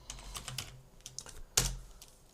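Typing on a computer keyboard at a desk: soft, irregular clusters of keystrokes, quiet and close, ending in one sharper, louder key press near the end.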